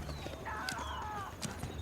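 Horse hooves clip-clopping with movement in Age of Empires 4, set in the Hundred Years War, steady soft footfalls under music and faint game ambience.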